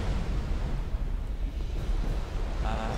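A boss's fire attack in Dark Souls 2 roars as a dense, continuous rumbling blast of flame, loud and sustained throughout with no speech over it.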